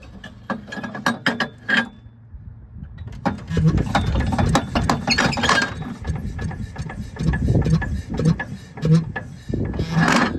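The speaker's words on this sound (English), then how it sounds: "I'm going to go ahead and crank the engine." A Fairmont pop car engine is cranked over with rapid, repeated mechanical clicking and ratcheting, then builds into a steady, rough running rumble with irregular pulses throughout.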